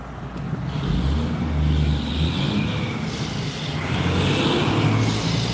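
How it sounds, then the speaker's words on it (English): Heavy trucks roll past on a road beside a turkey slaughterhouse, a loud continuous low engine and tire rumble that swells and eases as vehicles go by, with no talking. "Man, it's so loud here. It's big trucks."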